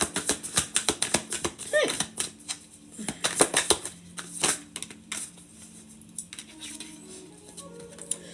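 Rapid riffling and snapping of playing cards as a deck is shuffled, a dense run of crisp clicks and flutters up close, easing into softer scattered card sounds toward the end.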